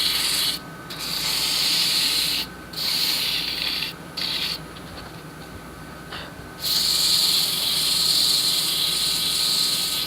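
Sandpaper rubs against a turned wooden tic tac toe box spinning on a lathe at about 600 RPM, a steady close hiss that pauses briefly several times before resuming, with no talking.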